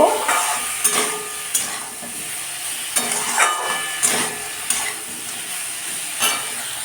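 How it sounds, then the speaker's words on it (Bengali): Vegetables sautéing in a pan with turmeric, salt, chili powder and coriander-cumin powder, a steady sizzle broken by repeated sharp scraping stirs of a spatula. "ভাজা ভাজা করে নেবো এর মধ্যে হলুদ গুঁড়ো নুন পরিমাণ মতো লঙ্কার গুঁড়ো আর ধনে জিরে গুঁড়ো দিয়ে দিয়েছি ভালো করে কষে নেব"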